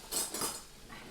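A few quick metallic clinks and scrapes of a utensil turning leeks and broccoli on a griddle pan, brief and fairly faint.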